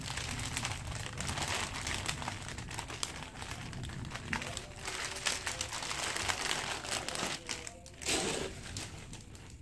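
Plastic packaging around a Kemko Samase casual men's koko shirt, size L in grey, crinkles and rustles continuously up close as it is handled and opened, with scattered louder crackles.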